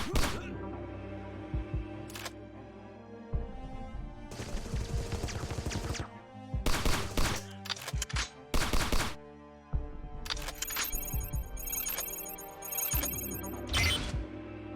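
Retro-style gunshots in the GoldenEye-inspired shooter Agent 64: Spies Never Die, fired in separate bursts and single cracks over game music and effects.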